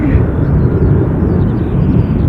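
A Ryanair Boeing jet at Dublin airport produces a loud, continuous low roar that fills the whole moment without a break.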